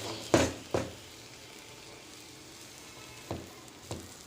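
Veg burger filling with turmeric, salt and paneer stirred in a hot pan, giving two close bursts of sizzling and scraping, a quiet hissing pause, then two more stirs.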